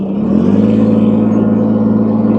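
A small BX tractor engine idles steadily after starting, giving a loud, even, close mechanical hum with a slight rise in pitch near the start.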